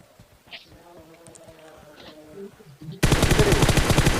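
In PUBG on the Erangle map, someone talks quietly over faint game sounds. After about three seconds a sudden, loud burst of rapid automatic gunfire cuts in and continues.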